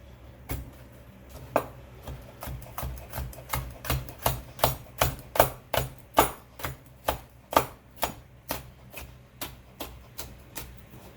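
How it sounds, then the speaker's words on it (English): Knife roll-cutting vegetables on a wooden cutting board, a steady run of about twenty crisp, evenly spaced chops that grow louder and more regular, close up with no talking. "This is called roll cutting because the knife never comes away from the board"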